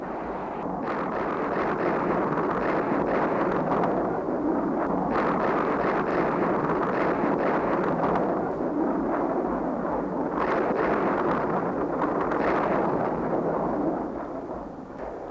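Sustained, dense rumble of B-52 bomb strikes exploding around Khe Sanh, a continuous roaring wall of blasts filling the whole stretch at high, steady loudness with only slight swells.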